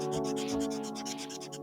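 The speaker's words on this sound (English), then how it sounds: "I'm going to do this right by the mic and see if y'all can hear how scratchy this piece is" A cheap acrylic marker drags across paper right beside the microphone, giving a rhythmic, scratchy rubbing of quick repeated back-and-forth strokes, close and clear with no talking.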